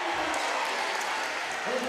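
Spectators cheer and applaud at a high school basketball game after a made three-pointer, a dense, steady roar of crowd noise filling the gym from start to finish.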